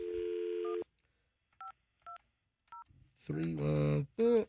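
A cell phone number is dialed as a string of short touch-tone beeps after an opening tone, followed by a voice on the line.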